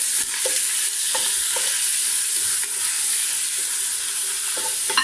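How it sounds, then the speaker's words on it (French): A spoon stirs veal meat and bones in a pot for harira soup, making steady scraping and clinking strokes over a constant loud sizzle from the hot pot, with no talking. "Allez, je mélange."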